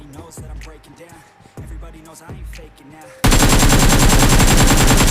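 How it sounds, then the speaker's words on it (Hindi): Gunfire in the mobile battle royale game BGMI, first scattered shots and footsteps under background game sounds, then a sudden loud, dense, continuous burst of automatic fire that fills the last two seconds, close and harsh. "तो मैंने फायर भी दिया"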